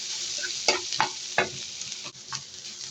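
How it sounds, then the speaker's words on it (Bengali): Onion frying in mustard oil with a little turmeric stirred in. A soft steady sizzle runs under a few sharp scraping stirs of the spatula, with no talking. "এই যে অল্প একটু হলুদ দিয়ে আমি পেঁয়াজটা ভেজে নিলাম।"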